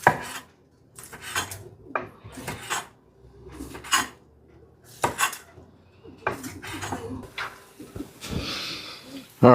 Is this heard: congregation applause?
no